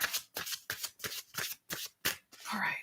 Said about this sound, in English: We'll do a quick shuffle